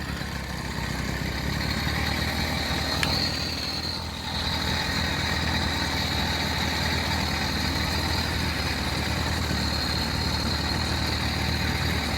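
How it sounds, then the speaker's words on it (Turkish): A motorized bicycle engine runs loudly and steadily at close range, a constant rough drone with a small dip partway through and no talking. "Şöyle tekrar durdurayım ben motoru. Hem çok sesli çalışıyor hem de çok ısındı."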